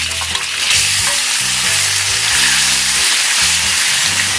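Pork ribs hitting a hot wok already holding garlic and ginger, for a braise with hairy gourd; loud, steady close sizzling with stirring and scraping throughout.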